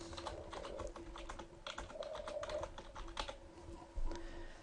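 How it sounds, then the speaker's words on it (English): Typing text on a computer keyboard produces a quiet, uneven run of light key clicks with small pauses, heard close and on its own. "If we type some more text, you will see that the box expands automatically."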